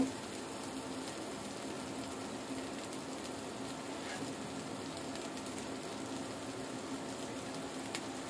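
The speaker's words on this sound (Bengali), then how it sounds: "ভাতটা দিয়ে দিব, এটার মধ্যে দিয়ে নাড়াচাড়া করে নিব" Leftover rice and pulao stir-fried and tossed in a hot pan for chicken fried rice: a steady, even sizzle that holds at one level throughout, with no voices.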